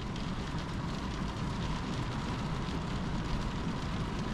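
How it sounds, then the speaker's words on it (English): Heavy rain pours steadily during a thunderstorm, a dense, even wash of noise with no talking and no distinct thunder claps. "Man, it's really raining out there."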